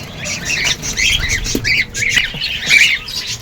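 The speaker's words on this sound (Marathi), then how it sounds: "हे कोकाटेल पक्ष्यांचा संग्रह आहे, बघून घ्या" Harsh, overlapping squawks from a flock of cockatiels, repeating steadily and close by with a busy chatter underneath.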